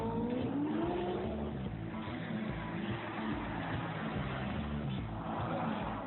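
Very expensive, loud fast cars race and rev on a town street, a dense continuous roar of engines with rising revs at the start, heard fairly distant and unbroken with no voices.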